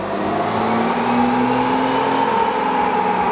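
A truck with a 68RFE transmission that won't shift into fifth gear accelerates under light throttle, its engine droning loud and steady with a slowly rising tone.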